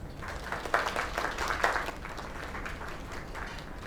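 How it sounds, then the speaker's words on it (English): Applause inside a video game at a celebration for a newly opened place, a soft, steady patter of many hands clapping at moderate distance, rising in a couple of brief swells before settling into an even wash. "Another round of applause."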